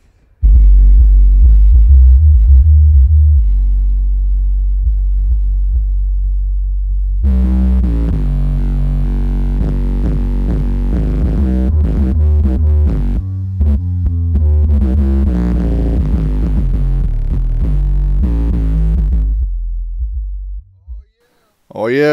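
Heavy bass music pounds through car subwoofers driven by a Brand X 1910-watt amp during an SPL test, loud and booming with throbbing low notes, a quieter intro swelling into a dense, sustained full-volume passage before cutting off.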